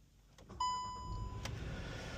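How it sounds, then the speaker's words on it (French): A Skoda Kodiaq 1.4 TSI petrol SUV starts with a brief starter crank, then its engine catches and settles into a steady idle, heard close from inside the car. "Déjà le véhicule démarre au quart de tour"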